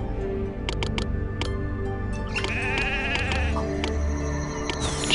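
Sheep in the city-building game Master of Olympus: Zeus bleat several times in short, quick calls over a steady backdrop of game ambience and clicking.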